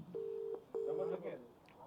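A phone line gives two steady tones, one short and one longer with a gap between, quiet and close, as a number is dialled.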